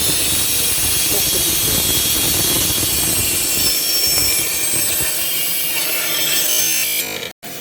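A band saw with a blade that drifts and cuts crooked: loud, steady rasping that runs for several seconds, then cuts off abruptly near the end.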